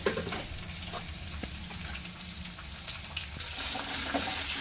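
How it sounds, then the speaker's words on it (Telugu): Onions frying in a pan for Bombay chutney give off a soft, steady sizzle with light crackles, a low, hissing bed of sound that stays even from start to finish. "చట్నీ కూడా ఆనియన్స్ వేగుతున్నాయి కదా"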